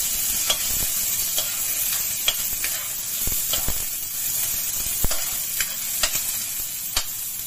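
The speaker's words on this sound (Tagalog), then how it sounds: "So mainit na yan. Unahin muna natin ang sibuyas." Onions frying in about a tablespoon of hot oil for a crab dish, a steady high sizzle with repeated sharp clicks and scrapes of stirring throughout, close and alone with no voices.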